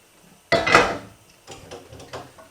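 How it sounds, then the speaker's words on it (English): Fried sausage being stirred around in a pan for a sausage and fennel ragu, a sharp metallic scrape of utensil on pan followed by a few softer clinks and scrapes, close and without speech. "Give that a stir around."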